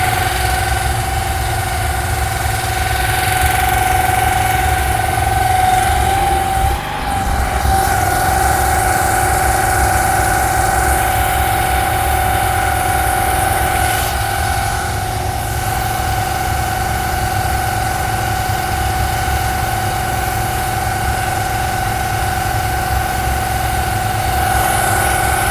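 A pressure washer steam cleaner's engine drones at a constant high rev, a continuous mechanical hum with vibration and no speech.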